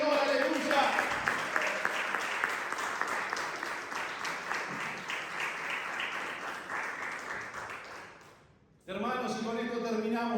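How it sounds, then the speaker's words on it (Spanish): A church congregation applauds loudly and steadily for several seconds during a Spanish-language service, the clapping fading briefly before voices and music resume. "Denle un aplauso al Señor, aleluya."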